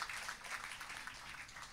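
A seminar audience of teachers and supervisors claps for the North Sumatra delegation, a dense, steady patter of many hands at a moderate distance, continuous throughout without clear peaks.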